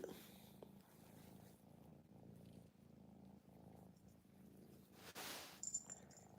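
A cat purrs close by in a soft, steady rhythmic rumble that lasts several seconds, with a brief rustling burst near the end and no talking.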